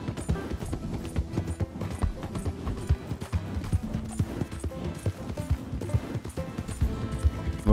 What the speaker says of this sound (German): Wir reiten an den Schienen entlang.